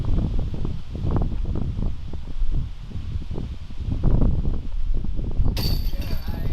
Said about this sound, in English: Facing a nice headwind.